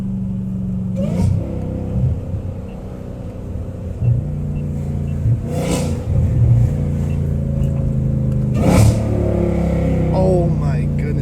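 A Dodge Hellcat Redeye with a catless exhaust revs in bursts, heard from the driver's seat at night on a street with close walls. A low engine rumble runs throughout, with several sharp throttle blips. A voice speaks faintly in the background.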